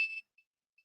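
A drone emits a short electronic beep when it cannot find its remote controller: one brief tone followed by two fainter, evenly spaced blips, clear and alone against silence.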